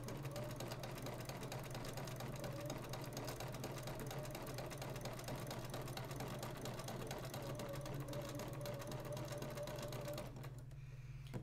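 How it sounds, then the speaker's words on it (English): Sewing machine chain piecing quilt half-square triangles runs in a fast, even mechanical whir and needle patter, loud and close, stopping abruptly near the end. "You're just sewing them together one after another."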